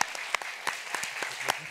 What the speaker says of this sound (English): Give a warm applause again for.